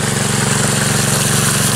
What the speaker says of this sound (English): I just turned the pump down a little bit